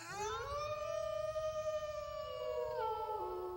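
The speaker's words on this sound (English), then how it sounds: "So I made the thing of me going, yeah, and it turning into a howl" A human voice shaped into a howl sound effect rises into a long, wavering tonal wail like a wolf or siren, sustained for a few seconds before dropping in pitch at the end, alone and clear.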